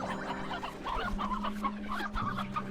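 A briar hen in the game Slime Rancher 2 clucks in short, repeated bursts over a steady low game hum, close and moderately loud, with no talk.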